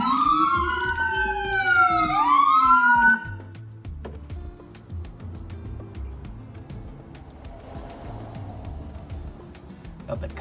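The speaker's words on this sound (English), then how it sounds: "Got the cops driving around the street" A police car siren wails along a street, loud and close with rising and falling sweeps for a few seconds, then cuts off, leaving low traffic rumble and faint ambient noise.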